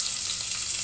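Onion, green chilies and curry leaves frying in hot oil over a tempering of chana dal, urad dal and dried red chilies, giving a brief, bright, continuous sizzle at close range.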